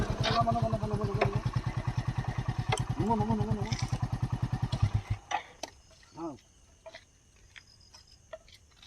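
A motorcycle on a lonely road chugs loudly close by in a rapid, even putter for several seconds, then cuts off abruptly, leaving faint clicks and a near-quiet background.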